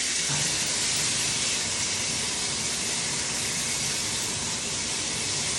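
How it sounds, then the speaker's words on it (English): Kitchen exhaust fan running over the stove while Pad Thai cooks, a steady broad rushing hiss that holds constant and fairly loud throughout, with no talking. "Just turn on my fan."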